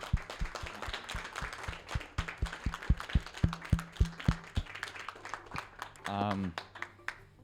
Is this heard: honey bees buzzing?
no